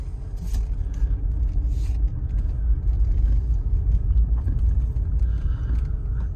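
A 2012 Toyota Prius Four pulls away from a standstill, its low, steady road rumble and faint mechanical whir continuing evenly throughout, with occasional small clicks and rattles from inside the cabin.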